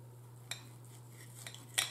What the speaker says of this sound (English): let's cut this steak